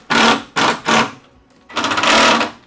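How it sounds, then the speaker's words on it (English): Screws being driven in to mount an adjustable keyboard tray: a power driver whirs in three short bursts and then one longer run, close and loud. "You're going to want to snug your screws up."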